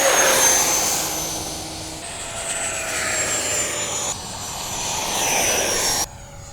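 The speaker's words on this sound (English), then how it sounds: "This is the Flycat version 2 Sport Jet. This one is in the 70mm EDF size class" An H-King Flycat V2 sport jet, a 70mm electric ducted fan RC model, flies past with a loud, high whine that rises and falls in pitch as it passes, then cuts off abruptly.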